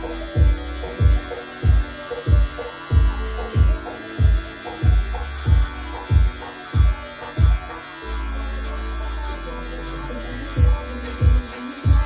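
Electric hair clippers fitted with a half guard buzz in a steady drone while cutting hair, broken by a rhythmic series of short strokes, close and loud, briefly running unbroken midway.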